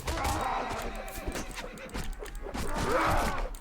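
Horse whinnying twice in a medieval battle in the video game Mount & Blade: Warband, with an Ottoman mod, amid clashing combat noise and hoofbeats, fairly loud and close.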